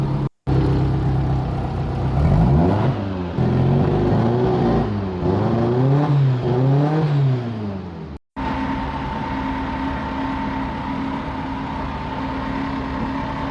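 A draw-through turbo VW 1600 engine starts for the first time and runs. It gives a loud, steady drone that rises and falls through several revs. The sound cuts out briefly twice, then settles into a steady running note.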